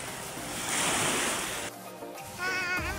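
Sea waves wash in at a beach during a fiesta outing, a breezy broadband surge swelling and easing over a few seconds with wind buffeting the microphone and a faint voice at the end.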